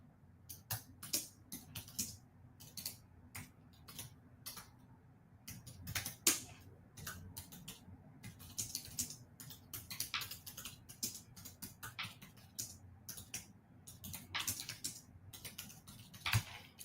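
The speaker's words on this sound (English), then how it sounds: "I can't type and look at the same time" Typing on a computer keyboard during a live online session, steady irregular clicks and key taps close to the microphone, coming in quick bursts with brief pauses.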